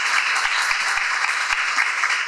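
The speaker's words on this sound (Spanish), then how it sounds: "Vamos a darle un fuerte aplauso" Steady, loud applause from a church congregation praising the Lord, dense clapping filling the whole moment without pause.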